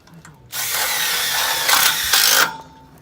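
A power drill drives a screw into a Colorbond steel fence mounted on a concrete sleeper retaining wall, one close, loud two-second burst with a brief change in pitch partway through, then quiet.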